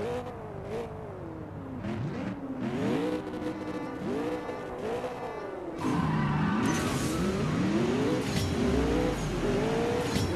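A McLaren 720S engine racing in the CSR 2 mobile game, revving hard through repeated rising gear pulls with shifts between them and a louder, brighter surge toward the end, with no talking.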